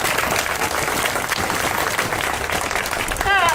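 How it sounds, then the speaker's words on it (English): A crowd at a protest applauds steadily and loudly throughout, dense clapping with a brief voice cutting in near the end. "Please give her a round of applause."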